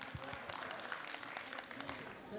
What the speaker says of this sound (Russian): Ваши аплодисменты, Румина Гусейханова.